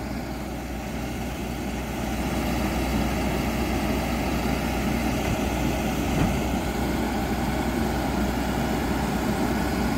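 A John Deere 9230 tractor's heavy diesel engine idles in a steady, deep, continuous rumble close by, with no speech over it.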